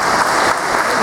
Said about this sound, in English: give themselves a round of applause